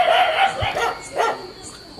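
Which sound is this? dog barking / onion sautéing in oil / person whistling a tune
dog barking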